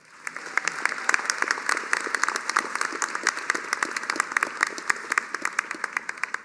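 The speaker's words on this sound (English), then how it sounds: "Please can I have a round of applause for all of your family and spouses" Steady applause from a commencement audience at a college of osteopathic medicine graduation, many hands clapping in a continuous, moderately distant wash with crisp individual claps standing out throughout.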